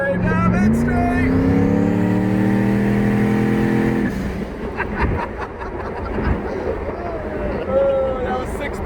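A 1000 HP turbocharged Pontiac Trans Am revs hard at close range, its engine note climbing for about four seconds before dropping into rougher, choppier rumbling; someone talks over part of it.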